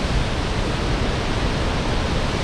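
Victoria Falls roars as a steady, dense, full-band rush of falling water, loud and unbroken throughout.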